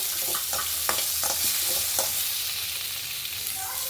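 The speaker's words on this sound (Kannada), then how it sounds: "ಈರುಳ್ಳಿ, ಬೆಳ್ಳುಳ್ಳಿ, ಶುಂಠಿ, ಟೊಮಟ ಹಾಕಿ ಸ್ವಲ್ಪ ಎಣ್ಣೆಯಲ್ಲಿ ಫ್ರೈ ಮಾಡಿಕೊಂಡು" Onion, garlic, ginger and tomato fry in a little oil for an okra sambar, a steady close sizzle broken by several sharp spatula scrapes and stirs in the pan.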